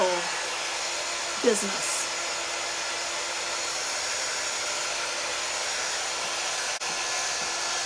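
A hair dryer runs at a steady, constant whoosh to quick-dry paint on a craft journal cover, with a brief clatter early on and a short click near the end.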